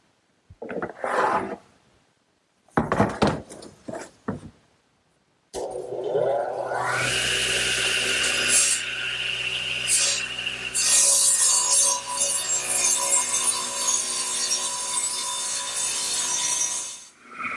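A radial arm saw cuts wood in a woodworking shop: a few short knocks and scrapes come first, then the motor spins up and whines loudly through a long continuous cut.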